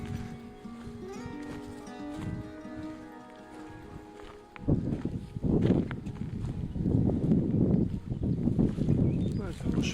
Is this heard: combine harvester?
no